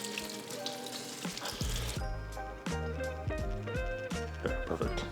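Tap water running steadily over lettuce leaves being washed by hand, with splashing, crinkly rustling and thumps from the leaves being handled.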